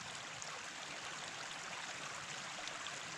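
Water rushes steadily through a Katadyn hiking filter at a camp in the Moffat Hills, a loud, continuous, close-up flowing hiss with a brook-like gurgle and no talk.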